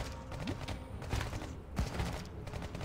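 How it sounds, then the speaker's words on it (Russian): Combat units in the strategy game Iron Marines fire in quick, rattling bursts, a faint, busy volley of small shots and thuds with no voices. "Слушайте, шпарят они действительно нехило."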